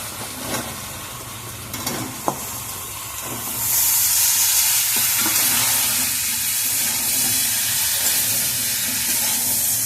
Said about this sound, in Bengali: এটাকে আমি একটু নাড়াচাড়া করে ভালো করে কষিয়ে নেব